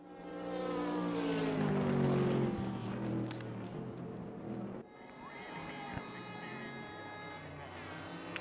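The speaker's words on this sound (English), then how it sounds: "You could hear the revs from Gaspard's car rising up and then falling down" A GT race car engine at Sonoma sweeps past, revs climbing and dropping as it goes by, then fades to a more distant engine drone.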